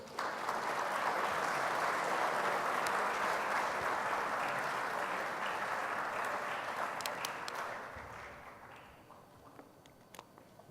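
Sustained applause from a ceremony audience honouring servicemen and women at an armed services event, a dense, steady wash of clapping that holds strong for most of its length before tapering off into a few scattered late claps.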